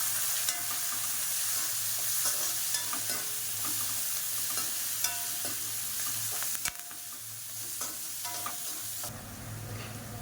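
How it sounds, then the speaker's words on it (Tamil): Onions sautéing in a pan for ennai kathirikai (brinjal) kulambu, a steady, broad sizzle with occasional spoon stirs and scrapes, close and continuous throughout. "இப்போ வந்து வெங்காயம் போட்டுக்கலாம்ப்பா. வெங்காயம் வதக்கி விட்டுக்கலாம்."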